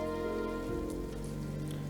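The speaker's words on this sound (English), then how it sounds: "But then the rain began to fall" Steady rain falls on a surface in dense, continuous hiss, loud and close, layered over a low sustained drone with no voices.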